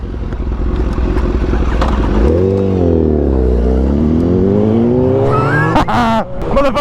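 A Mustang's loud exhaust in a video game drones and then revs, its pitch dipping and climbing in a smooth sweep, sustained and close, ending in sharper bursts of acceleration.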